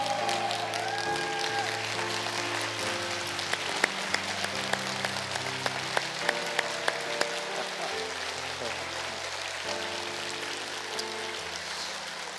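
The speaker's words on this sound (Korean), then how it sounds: "우리 선생님들한테 우리 한번 기립박수를 한번 보내시면 어떨까요?" A church congregation at a Sunday service gives a standing ovation for teachers, a sustained wash of many hands clapping that stays even and moderately loud throughout, with music playing underneath.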